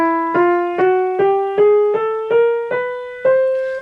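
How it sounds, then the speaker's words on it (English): Eight piano notes rise step by step in semitones, a chromatic scale struck evenly at a moderate pace, each note ringing clearly and close before the next, with no talking. "If I play a succession of semitones, we get something called the chromatic scale."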